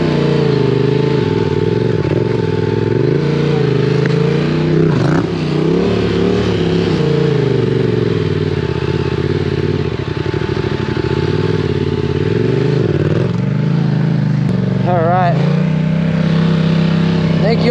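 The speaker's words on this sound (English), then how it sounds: "I'm gonna go clutch brake at the same time to initiate this death spin" Motorcycle engine running loud and close during a clutch-and-brake spin stunt, a continuous rumbling drone whose pitch rises and falls as the revs change, with a voice talking over it.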